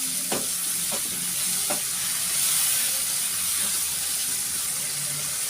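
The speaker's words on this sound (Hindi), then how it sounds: "बस हम इसके अंदर इसकी भुनाई करेंगे।" Chicken kadai stir-fries in a pan with a constant bright sizzle and hiss, with a few utensil scrapes early on and steady frying throughout.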